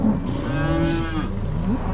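Cattle on a farm field lowing in one long, drawn-out moo with a second call rising near the end, close and loud over a steady outdoor background.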